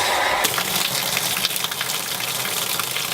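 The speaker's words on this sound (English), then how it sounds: "so there's my outdoor shower" Water from an outdoor garden shower rushing in a steady, loud hiss that starts abruptly and continues without talk.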